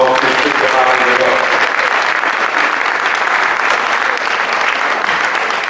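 Loud, dense applause rolls through a hall at a company Christmas party show, many hands clapping close and steady for several seconds, with a few voices mixed into the crowd noise.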